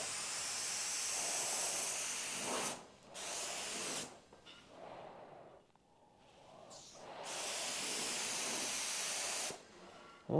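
Spray gun laying down high build primer on automotive bodywork, long steady hissing passes broken by short pauses and sputters, fairly close and alone without talk.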